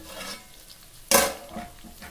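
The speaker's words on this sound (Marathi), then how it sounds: "वांगे पण मस्तपैकी फ्राय झालेले आहेत" Brinjal sizzles as it fries in a pan and is stirred, a quiet, close frying hiss broken by one sharp scrape of the spatula, with no speech.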